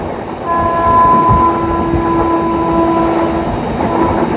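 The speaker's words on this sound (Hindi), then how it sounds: "ये जा रही है वंदे भारत।" A Vande Bharat express train passing nearby with a loud, steady rumble, a sustained horn tone held for a few seconds, and rail noise throughout.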